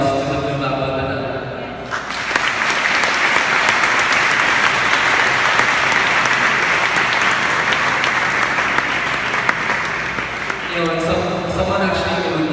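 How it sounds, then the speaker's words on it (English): Applause breaks out after a short spoken introduction at a church gathering, swelling into dense, loud clapping that holds for about nine seconds before fading as another sound returns at the end. "can you all give a round of applause to the Blue Bubble Banana?"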